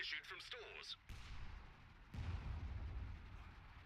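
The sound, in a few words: artillery fire in video game Company of Heroes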